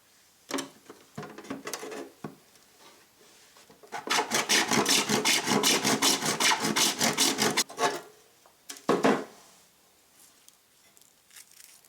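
A hand saw cuts straight across a PVC pipe, a few tentative strokes first, then a sustained run of rapid, rhythmic rasping strokes up close, followed by a couple of final scrapes and quiet handling.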